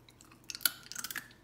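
A dog crunches a hard homemade pumpkin treat up close, a quick run of crisp, brittle bites over about a second.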